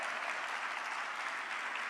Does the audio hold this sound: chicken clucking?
no